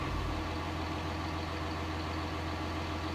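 A tractor engine idles in Farming Simulator 19, giving a steady, loud, low rumble that holds unchanged through the short stretch, with no talk.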